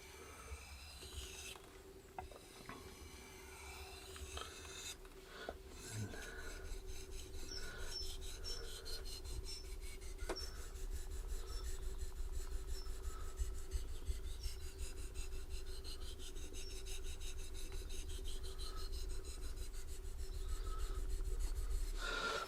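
A Schrade Frontier SCHF 42D knife's bevel is worked on a sharpening stone, a quiet continuous rhythmic rasping and rubbing of steel that slowly grows louder, with a steady hum underneath.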